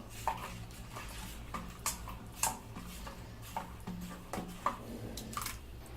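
Javvarisi (sago) dosa batter being mixed in a vessel, a series of spoon clinks and scrapes against the metal, irregular and close, over a low steady hum.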